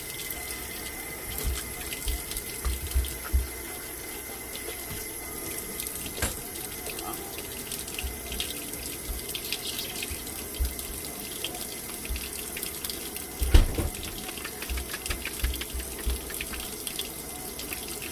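Hot water runs from a kitchen tap into a sink in a steady splashing stream with a few clinks and knocks, close and moderately loud, while gravy mix is being prepared for wet burritos.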